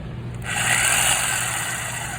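Jigsaw with a variable trigger and its speed knob at the lowest setting starts up into a thin, steady motor whine, close and moderately loud, running alone for about two seconds.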